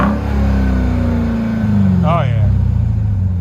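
A 2021 Dodge Durango Hellcat, mid muffler deleted and fitted with a Dynomax Race Bullet exhaust, rumbles loudly up close, its engine note swelling and then sinking back toward idle, while someone exclaims briefly partway through.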